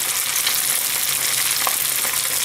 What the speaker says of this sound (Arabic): شلون ما يكون الزيت هي راح تنقلي